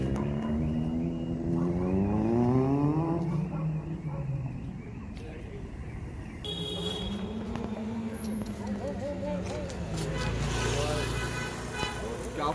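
A Kawasaki superbike fitted with an Akrapovic exhaust revs loudly and rises and falls in pitch as it passes, its engine note sweeping up and down across several seconds, with people talking nearby.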